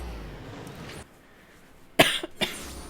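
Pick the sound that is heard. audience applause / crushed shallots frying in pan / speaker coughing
speaker coughing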